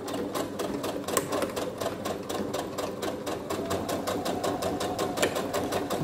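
A domestic sewing machine runs a steady forward-and-reverse lockstitch to start a seam on a fabric Christmas drawstring pouch, a fast close whirring chatter that never lets up and plays on its own, with no talk.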